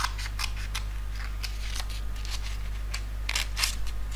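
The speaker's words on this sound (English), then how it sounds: "let me just cut this out" Close scissors snip through folded paper to cut out a heart shape, making a string of short, sharp crisp cuts over a steady low electrical hum. No one speaks.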